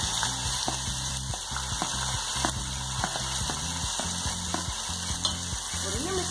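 Cucumber pieces tossed into hot oil with cumin over a low gas flame, giving a continuous close sizzle and crackle with a thin steady whine and a run of small rapid pops.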